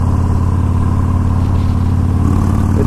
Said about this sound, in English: That V-twin is fun to drive.